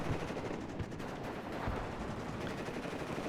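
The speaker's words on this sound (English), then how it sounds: "Grenade launcher here pummeling those airborne dragons" Continuous battlefield din from the real-time strategy game WARNO, where a 40mm grenade launcher pounds airborne infantry amid dense overlapping rapid gunfire and muffled blasts, a steady wash of combat noise with no speech.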